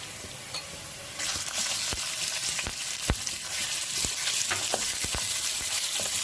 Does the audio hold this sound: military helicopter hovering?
no